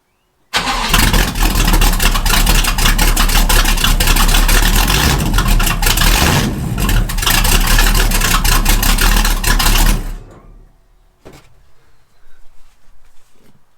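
A Chevrolet Chevelle muscle car with an open exhaust pipe fires up and runs loud and close, with a harsh, raspy rumble and a few revs for about ten seconds before shutting off. Brief faint knocks follow.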